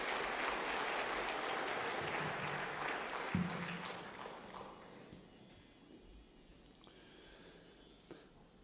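A church congregation gives a big round of applause, dense clapping that fades out over several seconds into quiet room tone with a few scattered claps.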